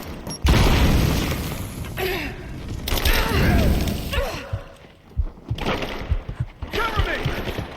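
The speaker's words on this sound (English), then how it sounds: "Throwing a grenade!" A grenade blast in Rise of the Tomb Raider sets off a loud, booming explosion with a heavy low rumble and debris. Several more bursts and impacts follow, mixed with game voices and battle noise.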